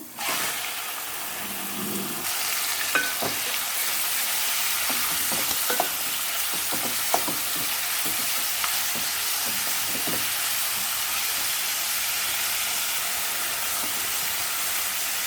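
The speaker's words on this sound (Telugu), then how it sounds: "ఐదు నిమిషాలు మూత పెట్టకుండా ఇలాగ వేయించుకుందాము" Mutton chops fry in hot oil in an uncovered pan, producing a steady, loud hiss of sizzling throughout, broken by scattered clicks and scrapes of stirring up close.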